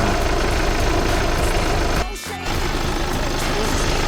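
A diesel car engine, an old German car after repair work, cranks and catches with a short drop in level, then settles into a steady, loud, rumbling idle close by.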